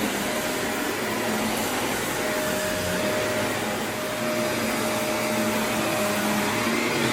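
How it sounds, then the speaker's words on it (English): A Vortex Lite vacuum cleaner runs steadily over an area rug with a constant, even roar and a faint whine, with no talking. "having a vacuum run it over is always good."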